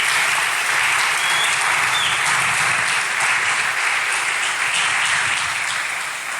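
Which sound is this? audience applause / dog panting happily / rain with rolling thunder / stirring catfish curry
audience applause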